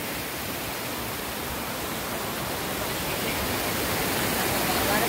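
The Ranjan waterfall at Lohare village in Konkan pours in a dense, steady roar of rushing water. It is close, loud and unbroken, and grows slightly louder toward the end.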